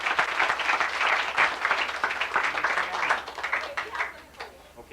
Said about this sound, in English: let's give a nice round of applause to our group